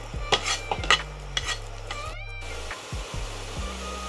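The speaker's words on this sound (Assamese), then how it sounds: "বন্ধাকবি ভাজি আছোঁ। ইণ্ডাকশ্যনত বনাইছোঁ" Cabbage frying in refined oil with chilli in a pan on an induction cooker, with steady sizzling and repeated scraping stirs of a spatula against the pan, loud and close, no talking.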